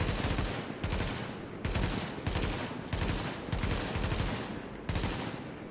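Rapid bursts of automatic gunfire in The Division, a shooter video game set in the Lincoln Tunnel, come in repeated loud volleys of about half a second to a second each, separated by brief gaps, with no talk over them.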